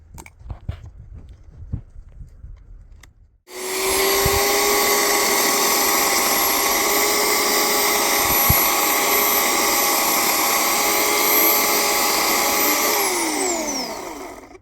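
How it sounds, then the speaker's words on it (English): A chainsaw roars to life after some quiet handling noises, running loud and steady for about ten seconds before winding down near the end. "So I'm gonna use my chainsaw, and I just want to cut a small piece"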